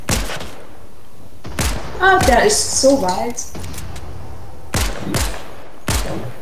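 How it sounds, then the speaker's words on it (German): Fortnite gunfire sounds as several sharp, loud shots scattered across the stretch, some distant, while a player speaks briefly in between. "da schießt jemand. Überall Schüsse!"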